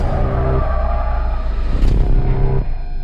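A bus crashing in a Halloween horror film: a loud, sustained vehicle roar with skidding and a sharp impact burst near the middle, then the engine noise continuing, with no one talking.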